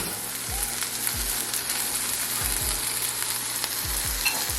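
A homemade burger patty fries in a pan with a loud, constant crackling sizzle, while low thumps of the pan or spatula recur every second or so underneath, and nobody speaks.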